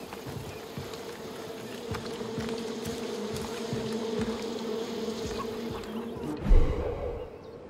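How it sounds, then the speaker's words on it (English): Steady droning hum of bees in the game Far Cry New Dawn, a continuous buzzing tone holding at even loudness with a brief louder thump near the end. "Watch for the bees."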